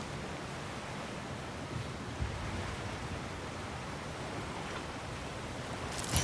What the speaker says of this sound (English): Sounds like you got the water moving along, brother.